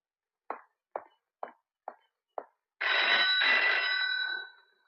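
A telephone in a Hindi film scene: five short evenly spaced clicks, then a loud, bright ring burst lasting about two seconds before it fades out, with no one talking.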